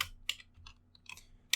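Typing on a computer keyboard while writing Python code, a few quick close key clicks in uneven bursts with short gaps, no talk.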